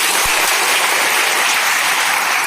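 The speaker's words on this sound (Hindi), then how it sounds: "उन सभी लोगों के लिए जोरदार ताली हो जाए।" Loud, dense applause from an audience at a community gathering in Narsinghpur district, a continuous roar of clapping at steady volume with no voices above it.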